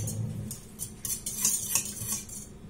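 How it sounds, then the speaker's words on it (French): Eggs are beaten in a bowl with a utensil, quick uneven clinking and scraping strokes against the bowl, close and fairly quiet, no speech. "On va commencer par battre nos œufs."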